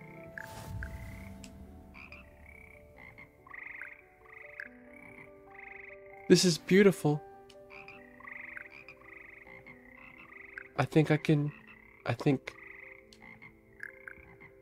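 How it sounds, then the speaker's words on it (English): A frog choir croaks in the video game Hogwarts Legacy, a steady musical chorus of croaks over a sustained tonal backdrop, with louder bursts of croaking recurring throughout and a person briefly speaking over it. "It's the frog choir?"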